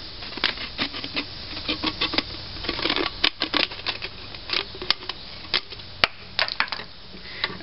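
Scissors snip around the top of a plastic bottle, close by, in a quick, irregular series of sharp clicks and crunches with short pauses. Nobody speaks.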